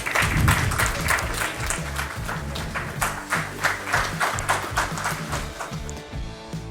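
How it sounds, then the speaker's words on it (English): Audience at an award ceremony applauds steadily, a dense wash of many hands clapping that stays loud before easing off toward the end. "Can we have a round of applause for him, guys?"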